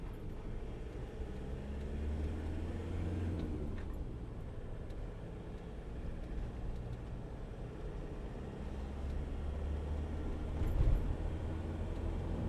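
A 2014 Land Rover Defender 90 2.2 TDCi XS hard-top 4WD short-wheelbase three-door drives along with a steady low diesel rumble and road noise, swelling slightly near the end.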